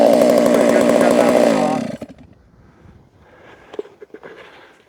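A Holzfforma G660 chainsaw roars loudly at full throttle while milling wood, then cuts off after about two seconds, leaving faint clunks and handling noises.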